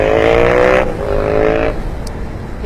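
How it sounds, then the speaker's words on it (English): Motorcycle engines roar past up close in two loud swells, each with a strong rumbling drone, then fade out with a brief higher whine at the end. "Yeah, the sound of motorcycles."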